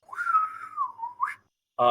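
A person whistles to imitate a whistle, a single sustained tone that wavers slightly and rises at the end. A brief burst of speech follows after a short pause.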